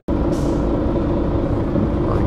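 Mercedes Citaro city bus riding in Münster: a steady, loud interior rumble of the engine and road noise, with a brief hiss near the start.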